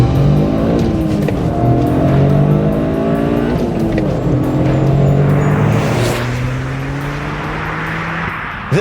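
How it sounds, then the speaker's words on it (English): A Toyota Corolla GR driven hard on back roads, its engine close and loud, climbing and falling through several gear changes with rising revs and shifts, ending with a brief blip. "This is a Toyota Corolla GR"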